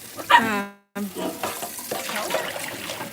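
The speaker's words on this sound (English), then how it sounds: "that was Danny that barked" A single sharp dog bark rings out near the start, followed by a brief gap and then ongoing indoor background noise with muffled activity.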